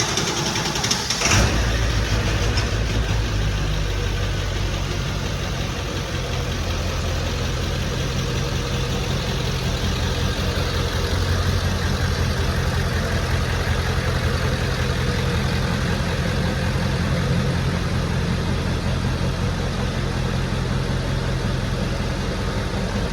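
Ford 7.3L Powerstroke diesel pickup starting and running while backing up, a steady close low-pitched rattling rumble that continues evenly with no voices.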